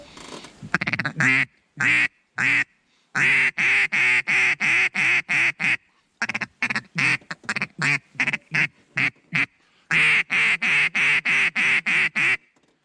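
A hunter blows a duck call in a rapid, loud, close sequence of quacks, grouped into several runs that speed up and descend, with short silences between runs.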